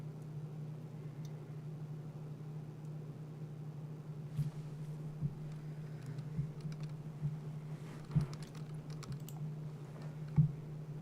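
Computer keyboard keys being typed and pressed during a coding session, a sparse run of soft clicks, some sharper and louder, over a steady low electrical hum.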